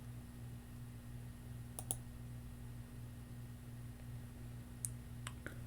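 A computer mouse clicks a few times while working in Excel 2016, quick pairs of faint, close ticks spread over a quiet background with a steady low hum.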